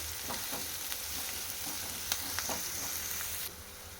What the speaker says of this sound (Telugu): ఆనియన్ వేస్తున్నాను ఒక ఆనియన్ ముక్కలు చిన్నగా తరిగి వేసుకోవాలి మీడియం సైజు ఆనియన్ వేసాను